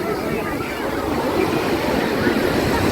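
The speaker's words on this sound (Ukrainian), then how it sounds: "Подивіться, які хвилі" Sea waves at Golden Sands beach make a loud, continuous roar of surf with wind rushing across the microphone, and a voice can be heard under the noise.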